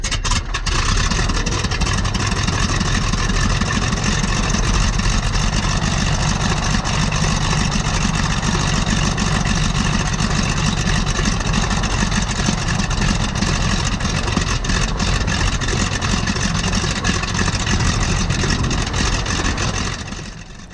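Stearman biplane radial engine running in an open-cockpit aerobatic aircraft, a loud, continuous roaring drone that stays strong for about twenty seconds before easing slightly at the end.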